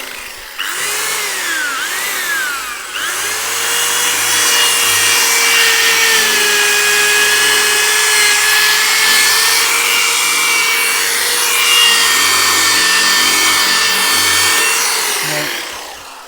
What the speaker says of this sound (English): I'm just grabbing my drill and let's have a go.